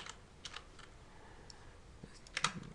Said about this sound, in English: I was just typing with one hand